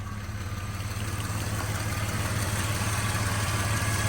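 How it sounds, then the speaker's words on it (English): A 2000 Jeep Cherokee engine idles steadily up close with a low, even rumble and a constant drone, without anyone speaking. "Let's go listen to the motor while it's running."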